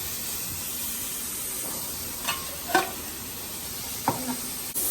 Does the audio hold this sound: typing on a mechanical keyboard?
no